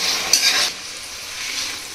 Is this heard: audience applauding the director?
no